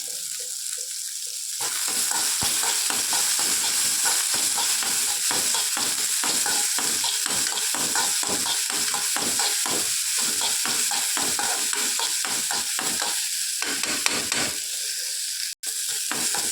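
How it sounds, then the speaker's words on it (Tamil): Green chillies sautéing in a pan for Bombay chutney, a steady loud sizzle running throughout with rapid rhythmic scraping and stirring strokes from a utensil against the pan. "கட் பண்ணி வச்சுருக்க பச்சை மிளகாவையும் சேர்த்துக்கலாம் இப்போ இதை நல்லா வதங்கட்டும்"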